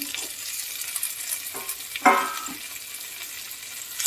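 Pointed gourd and potato curry with prawns being sautéed in a pan, a steady soft sizzle with a few scraping stirs and one louder clatter near the middle, no voices.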